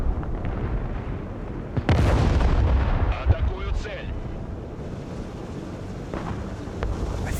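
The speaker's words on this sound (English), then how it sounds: "He's got us dialed in for artillery." Artillery shells and explosions in the video game Broken Arrow, Russian air mobility deck battle: a sharp heavy blast near two seconds, then rumbling impacts and scattered bursts over a continuous low battlefield roar.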